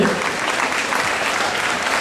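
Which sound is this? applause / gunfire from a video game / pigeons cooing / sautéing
applause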